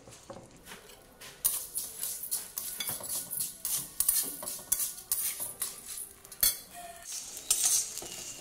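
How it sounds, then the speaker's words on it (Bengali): Gond, edible gum, frying in ghee over a slow gas flame, with a soft crackle broken by repeated light clinks and scrapes of a utensil against the pan, close by, with no talking. "এই যে গোঁদটা একটু ঘিয়ে ভেজে নেব।"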